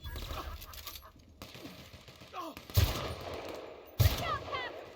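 Gunfire in The Outer Worlds: Spacer's Choice Edition, with two loud, punchy shots about a second apart over a busy game background of bursts and clatter.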